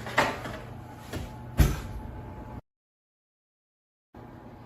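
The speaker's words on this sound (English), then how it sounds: "So let's put it in the oven." An oven door is handled while pumpkin muffins go in to bake, a few close clunks and knocks followed by a brief dead silence, then the room tone returns.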